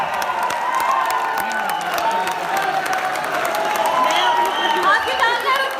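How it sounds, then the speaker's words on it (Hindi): A large audience applauds continuously for a poet at a poetry gathering, a dense, loud wash of clapping mixed with crowd murmur and some cheering, with voices heard over it. "आपकी तालियां रुकनी नहीं चाहिए"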